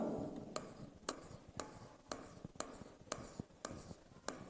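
Writing on a board during a chemistry class: close, rhythmic scratching strokes with sharp taps roughly every half second, steady and unhurried, with a faint room background.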